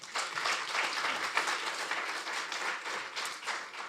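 Faint applause from an audience at a legal and business conference, a short, even burst of many hands clapping heard from a distance.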